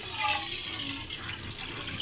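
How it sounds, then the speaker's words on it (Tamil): Water is poured into a pan of hot ghee while cooking sago kesari, a steady rushing splash with a bright hiss that holds at moderate loudness throughout. "இப்போ இதே நெய்யில் நம்ம தண்ணி சேர்த்துடலாம்"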